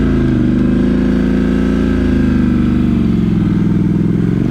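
Scrambler motorcycle stuck on a clay-mud national forest road, its engine revving steadily and loudly as the rider works for traction, a continuous close throaty drone that rises slightly partway through.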